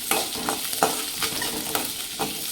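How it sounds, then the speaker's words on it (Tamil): Onions, cumin, pepper and curry leaves sautéing in a pan for brinjal kuzhambu, with a continuous sizzle under regular scraping stirs, close and moderately loud, no talking. "இது நல்லா வதங்குது."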